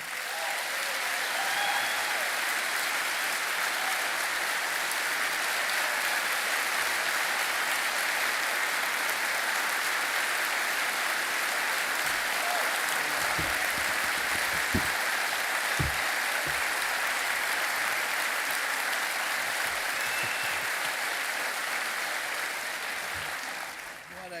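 A large audience at a faith-themed interview event applauds continuously and energetically for a welcomed guest, sustained clapping filling the room for over twenty seconds.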